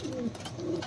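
Pigeons, soldier breed birds handled for sale, give a brief soft coo close by, two short throaty notes with no talk.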